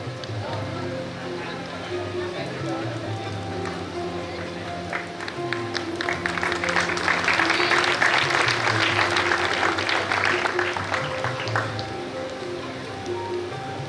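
Audience applause at a Kharva community student award ceremony, a broad wash of clapping that swells midway and holds steady over a continuous hall murmur and background voices.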